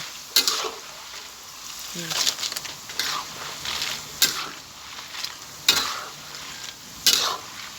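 Banana slices fry in hot butter oil for chips, a steady bubbling sizzle broken by periodic loud clanks and scrapes of stirring, with a voice speaking at times.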